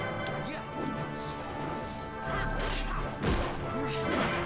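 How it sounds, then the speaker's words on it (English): Glass shatters from a punch in Final Fantasy XII, a loud crash amid dense game sound and music, with sharp impacts near the middle. "Broke through the glass."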